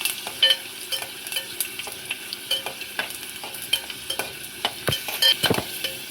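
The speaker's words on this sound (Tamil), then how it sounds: "நல்லா எண்ணெயில் பொரித்து எடுத்து வச்சிடணும்" Ring-shaped papad (appalam) frying in hot oil, with a steady bubbling sizzle broken by frequent crisp crackles and stirring clatter, close and fairly loud, with no talking.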